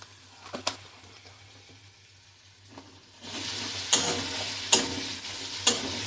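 Turmeric stirred into food frying in a pan for a vegetarian fish-style dish, a quiet start giving way to steady close sizzling with a few sharp scrapes of the spoon.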